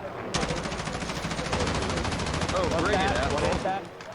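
Rapid SMG bursts rattle almost nonstop during a Warzone tournament match, loud sustained automatic fire with a brief pause before it ends, a faint voice underneath.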